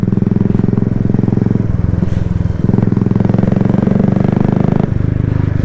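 Loud, close motorcycle engine idling with a deep, pulsing exhaust thump, steady with slight shifts in pace.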